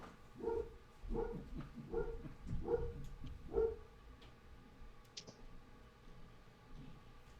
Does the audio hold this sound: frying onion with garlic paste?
no